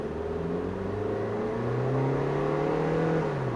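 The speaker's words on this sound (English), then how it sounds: "As I drive through the city" A 2015 Toyota Yaris drives through city streets, its engine heard from inside the cabin as a steady hum with gently rising and shifting tones as it accelerates, moderately loud, with no talking.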